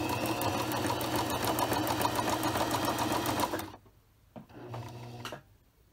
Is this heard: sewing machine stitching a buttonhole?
yes